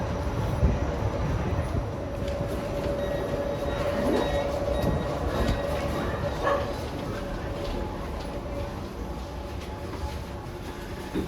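A driverless Copenhagen metro train hums and rumbles steadily as it runs, a continuous loud rolling drone with faint tonal whine.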